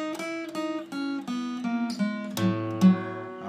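An acoustic guitar picks the ad-lib lick from a song, a quick melodic run of single plucked notes with a few brief bends and slides, played clearly and alone without voices.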